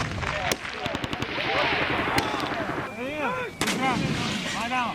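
Rapid gunfire and heavy artillery blasts in war news footage from Kharkiv, Ukraine, as a Ukrainian attack hits a Russian tank convoy, cracking repeatedly and loudly over a continuous roar while a voice speaks underneath.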